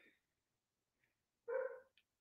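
A dog gives a short bark indoors, one clear yelp standing out amid quiet, with a couple of faint yips around it.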